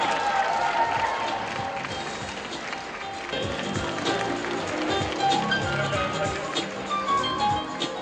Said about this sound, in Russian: Давайте поддержим аплодисментами Диану.